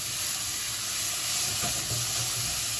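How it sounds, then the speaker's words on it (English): Fresh ginger, skin left on, sizzles steadily in a hot pan, a constant close hiss and crackle with faint stirring clicks and no one talking. "Saute that down"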